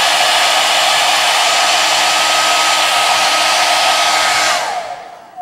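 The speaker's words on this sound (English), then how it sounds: "I'm going to take a hair dryer starting about 18 inches above the paper." A hair dryer blows with a loud, steady whooshing roar and a faint motor whine, then shuts off and winds down at the end.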